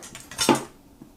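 Roast pork shoulder flipped over in a pan: a short metallic clatter of utensil against pan with a brief thud, close and fairly loud, then quiet.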